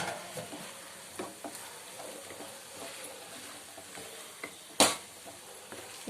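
Drumstick pieces are turned into masala in a pan, giving a soft, faint sizzle with scattered scrapes and light clinks of a spoon, one sharper knock standing out near the end.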